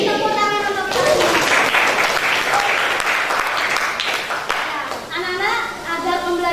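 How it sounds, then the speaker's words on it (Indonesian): Loud, sustained applause and clapping from a class of high school students in an Indonesian-language lesson, with children's voices and cheering over the clapping throughout. "Tepuk tangan untuk kita semua"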